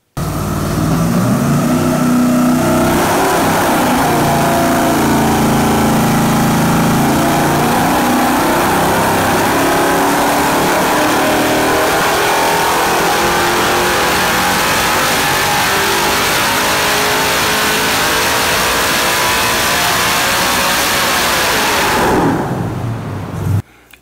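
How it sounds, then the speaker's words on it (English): A modified 6-liter LS LY6 V8, naturally aspirated, runs loud on a dyno, climbing steadily through a long sustained pull with rising pitch for about twenty seconds before cutting off abruptly. "So now let's take a look at the power output of our NA motor. You get to hear it run."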